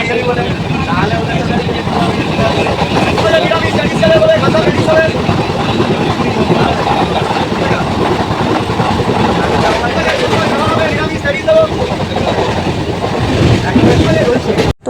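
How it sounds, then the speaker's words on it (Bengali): A crowded local train runs from Chakdaha to Ranaghat with a loud, continuous rumble and rattle of the carriages close by, while voices murmur throughout. "তো ব্যাস খুব এবার তাড়াতাড়ি করে ট্রেনে উঠে গেছি।"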